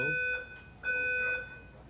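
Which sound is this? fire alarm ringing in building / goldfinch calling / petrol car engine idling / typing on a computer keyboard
fire alarm ringing in building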